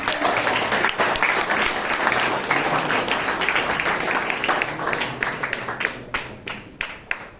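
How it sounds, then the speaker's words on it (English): A Toastmasters meeting audience in Bangalore gives sustained applause that stays loud and dense, then thins into scattered individual claps near the end. "let's give them a big round of applause"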